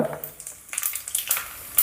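Half a teaspoon each of mustard seeds and cumin seeds dropped into three tablespoons of hot oil in a kadai, giving a brief, soft crackling sizzle with faint popping.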